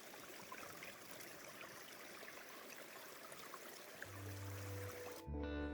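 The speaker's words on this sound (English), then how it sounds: "Can hear the water." Steady rush of flowing water close by amid winter ice formations at Pictured Rocks National Lakeshore, constant and continuous, with a brief low hum near the end.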